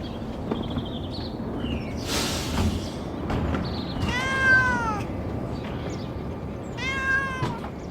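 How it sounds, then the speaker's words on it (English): A cat meows twice, drawn-out, fairly clear cries a few seconds apart, set against background street noise from a bin lorry emptying rubbish, with a few short knocks and rustles. "That's the cat."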